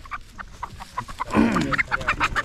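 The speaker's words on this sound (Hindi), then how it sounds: "देसी मुर्गे" Desi chickens on a rural Burundi farm give repeated short clucks and some louder squawks, close by, with several birds overlapping in a busy, irregular rhythm and no talking.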